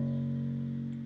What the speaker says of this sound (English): Are you getting a clear note that's lasting, that rings out?